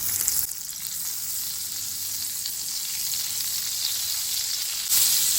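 Butter melting into about a spoonful of hot oil in a pan, giving a bright, steady hiss that holds loud and even, with a slightly sharper burst near the end and no voices.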